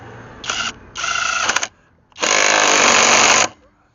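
A VTEK V6309R impact wrench working a 19 mm nut with a chromoly socket: two short loud hammering bursts, then a longer sustained rattling burst, close up.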